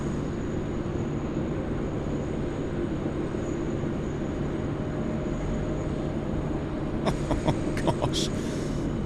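An airliner takes off from runway 16 right at Sydney Airport, a steady broad roar that holds for the whole stretch, with a few sharp clicks near the end.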